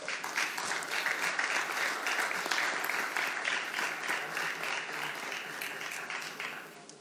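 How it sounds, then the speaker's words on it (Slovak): Sustained audience applause at a youth-worker awards ceremony in Slovakia, dense steady clapping from a full room that holds evenly for about seven seconds before tapering slightly at the end. "nikoho nechcem obrať samozrejme o potlesk, ktorý si zaslúži"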